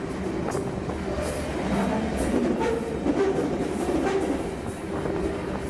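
Riding aboard a BNSF freight train produces a steady, loud rumble of rolling rail cars with faint squealing tones and soft rhythmic clatter throughout, with no voices.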